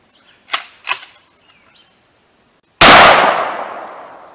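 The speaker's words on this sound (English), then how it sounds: "Alright, he's gonna shoot 12 gauge one hand." A 12 gauge shotgun fired one-handed at a broken computer goes off in a single loud, sharp blast with a long ringing tail, preceded by two quieter clicks or taps.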